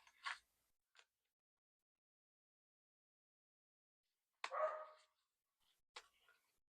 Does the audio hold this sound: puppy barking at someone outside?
yes